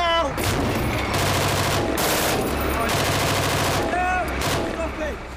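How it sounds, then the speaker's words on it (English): An armoured reconnaissance vehicle of the Household Cavalry fires live rounds from its main armament in rapid bursts, loud and close, heavy repeated shots over a low engine rumble, with faint voices partly audible between bursts. "Firing now!"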